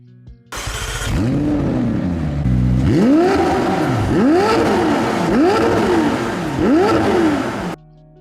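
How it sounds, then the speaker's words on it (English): A McLaren Senna engine starts, then revs hard four times in a row, each roar climbing in pitch and dropping back before cutting off. "Listen to how the engine sounds."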